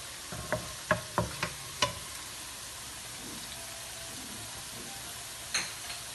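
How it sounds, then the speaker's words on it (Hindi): Garlic and ginger paste dropped into hot oil in a pan for a chicken and vegetable pasta, giving a few sharp crackles and pops early on, then a faint, steady sizzle with one more pop near the end. "3 टेबलस्पून ऑयल और उसमें डाल देंगे ये लहसुन अदरक का पेस्ट, यानी कि कूटा हुआ लहसुन अदरक।"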